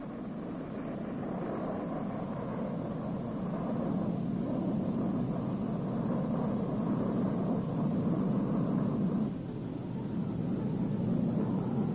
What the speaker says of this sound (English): This sequence shows a Convair F-102 Delta Dagger pilotless drone